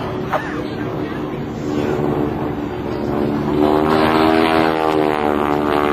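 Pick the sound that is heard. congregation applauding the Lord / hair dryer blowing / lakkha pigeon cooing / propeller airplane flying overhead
propeller airplane flying overhead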